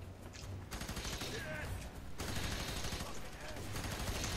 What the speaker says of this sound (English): this shotgun is really satisfying